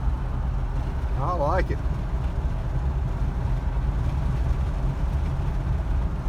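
A 1977 Ford LTD cruises along a country road, its engine and road rumble a loud, steady drone throughout, with a brief spoken remark early on.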